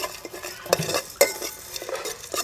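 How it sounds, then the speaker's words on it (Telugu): Whole coriander, coconut, cinnamon, pepper, cloves and cardamom dry roasting in a pan, dry rattling stirs with a couple of sharp utensil clinks against the metal, close and intermittent, no talking. "దినుసులు ధనియాలు ధనియాల కొబ్బరి దాల్చిన చెక్క మిరియాలు లవంగ ఒక యాలక అవన్నీ మంచిగా రోస్ట్ చేయాలి"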